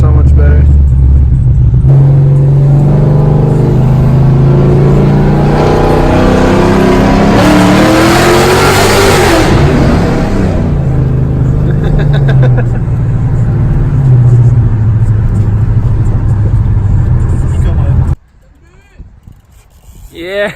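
A Subaru WRX with an X-pipe exhaust revs loudly and continuously, the engine note rising and falling through a strong pull before dropping off near the end, with voices mixed in.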